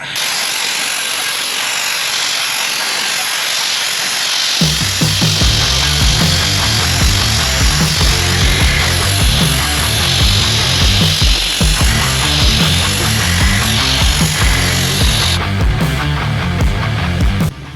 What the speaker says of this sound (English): you're gonna watch me sandblast this axle by myself